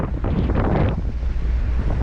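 Strong wind buffets the microphone over the rumble and wash of rough sea waves in the West Philippine Sea, loud and constant with no voices.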